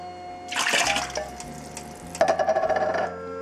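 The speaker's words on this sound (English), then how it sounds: "So first we will put all the water in, and we'll mix." Water poured from a container into a large pot of pasta sauce being made for a big batch, a splashing gush that stops, then a second sputtering pour with gurgling bubbles, close by.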